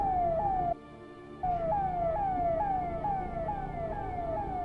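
An ambulance siren wails in rapid repeating downward sweeps, briefly cutting out before resuming, over steady traffic noise.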